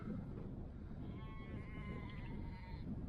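A sheep bleats in a long, wavering call outdoors on Dartmoor moorland, fairly distant, over steady wind noise.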